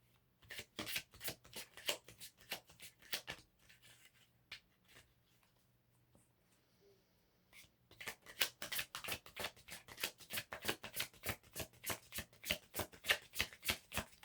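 Tarot cards are shuffled by hand in quick crisp riffles, close and clear, pausing for a few seconds midway before the rapid shuffling resumes.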